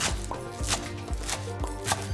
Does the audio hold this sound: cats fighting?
no